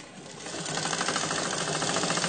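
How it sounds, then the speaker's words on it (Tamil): A sewing machine runs steadily, stitching elastic onto fabric for chudidhar pants, a continuous close mechanical whir with a fast even needle rhythm and no talking. "நம்ம இப்போ இப்படி ஸ்டிச் பண்ண போகிறோம்"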